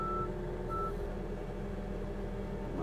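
A skid steer backs up near a truck, its engine rumbling steadily underneath while a reversing beeper sounds twice in short tones, fairly close.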